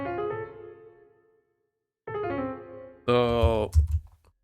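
Piano notes played in Logic, quarter notes ascending from C: a run of clear, harmonically rich tones, a gap of silence, then another run and a louder dense chord-like passage near the end.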